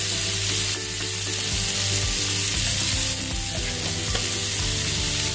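Vegetables shallow frying in oil with pepper powder for a chicken stew, a loud, close, continuous sizzle with occasional stirring scrapes, no voices.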